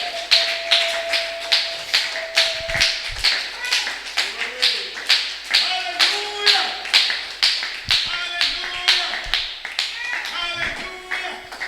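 A church congregation claps in a steady, rhythmic beat in praise of the Lord, the brisk claps running throughout alongside voices singing or calling out.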